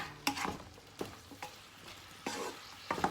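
Pork stir-fry with curry paste being stirred in a pan over gas heat, a soft steady sizzle broken by several distinct scraping strokes spaced about a second apart, close and fairly quiet with no talking.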